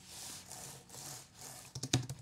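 Keys clicking on a Nintendo Switch keyboard, a soft rubbing patter followed by a quick cluster of sharper close clicks near the end.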